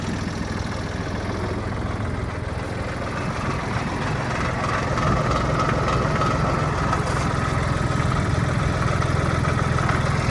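A Mitsubishi MTR-300 mini tractor engine idles with a steady, close, low rumbling drone that stays even throughout, growing slightly louder midway.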